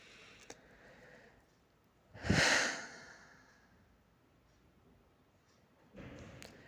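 A single long, deep exhale during a relaxation breathing exercise, close and breathy, trailing off slowly. A softer second breath out follows a few seconds later.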